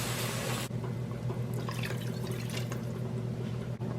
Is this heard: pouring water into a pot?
yes